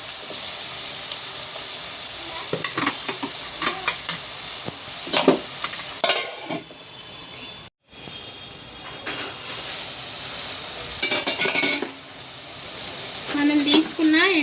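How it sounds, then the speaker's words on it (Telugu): Dried fish frying in a pan with oil, a steady loud sizzle throughout, broken by scraping stirs and one brief dropout midway. "దీనిలోకి మనం తీసుకున్న ఎండి చేపలను అయితే వేసుకున్నాం"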